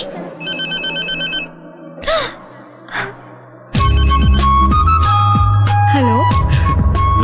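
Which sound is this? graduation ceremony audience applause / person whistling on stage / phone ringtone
phone ringtone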